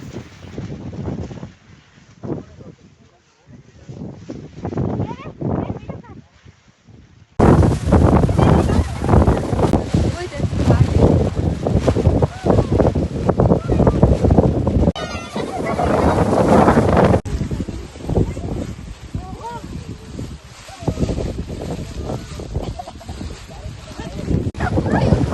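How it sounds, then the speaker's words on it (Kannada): Strong wind buffets the microphone in loud, continuous roaring gusts at a windy outdoor spot in Chikkamagaluru, growing harsher after the first few seconds and drowning out everything else. "ವಿಡಿಯೋ ಮಾಡುವಾಗ ಮಾತಾಡಲಿಕ್ಕೆ ಆಗ್ತಿರ್ಲಿಲ್ಲ, ಯಾಕಂದರೆ ಇಲ್ಲಿ ಗಾಳಿ ಜೋರಿತ್ತು."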